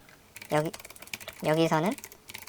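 Quick, close clicks of typing on a computer keyboard while entering text into a coding program, running under a person speaking.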